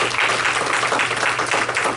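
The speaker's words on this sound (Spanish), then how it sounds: "Dale un aplauso a Dios, hermano." A congregation claps together in a church, a dense, steady wash of applause filling the whole stretch with no break and a low hum underneath.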